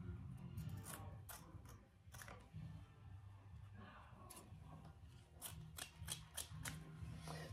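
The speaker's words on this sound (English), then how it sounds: "I think I'm actually gonna just cut it off right here." Scissors snipping through clutch material, a handful of short, crisp cuts spread across the clip over a steady low background hum, fairly faint and close.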